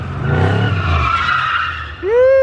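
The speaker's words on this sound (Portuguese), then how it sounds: "Como é o nome disso? Drift?" A car drifting in Camboriú with tires skidding, a loud, close, sustained squeal that rises into a sharp rising screech at the end, with engine noise underneath.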